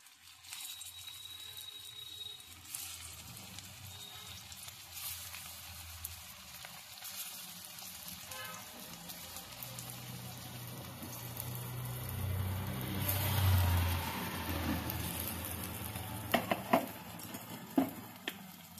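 Drumstick (sajne data) cutlets dropped into hot oil in a kadai, frying with a steady sizzle that swells louder midway, with a few sharp clinks of tongs near the end and no talk.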